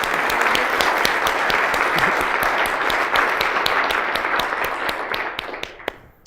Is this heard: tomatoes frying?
no